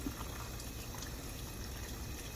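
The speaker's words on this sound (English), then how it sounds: "I don't put like a full faucet on. I just like drip the water" Faucet water trickles gently onto soft green chilies being peeled, a steady low splashing dribble that runs throughout, close and fairly quiet, with no talking.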